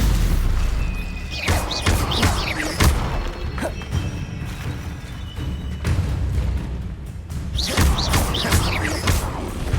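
Stupefy spells cast in Hogwarts Legacy, a series of loud magical bursts and crashing impacts with whooshing tails, spaced a few seconds apart over dense combat noise.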